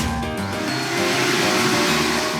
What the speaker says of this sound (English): Can you think of anything else that sucks things up? How about a vacuum cleaner?